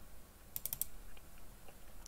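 Numbers being typed on a computer keyboard during AutoCAD drafting, heard as a short burst of about five quick, light key clicks followed by a few fainter taps against a quiet room background.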